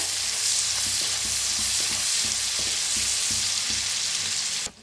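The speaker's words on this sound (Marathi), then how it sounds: "कांदा बी चांगला भाजून घ्यायचा" Chopped onion frying in very hot oil with whole spices for an Indian egg curry, a loud steady sizzle with rhythmic stirring scrapes throughout, close and continuous with no talk, cutting off at the end.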